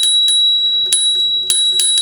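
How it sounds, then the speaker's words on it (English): A scooter's bright bicycle-style bell rings five times in quick, uneven strikes, each leaving a high sustained ring, loud and close with no talk over it. "it's got this really annoying bell that I like to chime"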